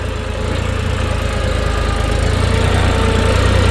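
A steady, loud tractor engine drone runs throughout while plowing a field, with a deep low rumble and slight rise in level.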